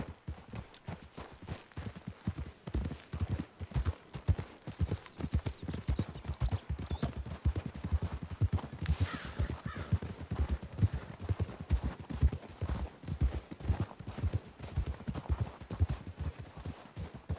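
Horses' hooves clip-clop steadily on the ground in Red Dead Redemption 2, a fast and continuous rhythm of close, fairly loud footfalls that runs throughout, with a faint whinny and some distant gunfire mixed in.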